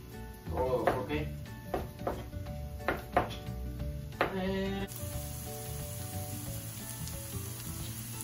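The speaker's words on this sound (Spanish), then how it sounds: "ahí tenemos la cebolla y el chile cerrando, trabajando" Diced onion and chile frying in a pan give a steady, soft sizzle, punctuated by several knocks and scrapes of utensils in the first half, with a voice speaking quietly underneath.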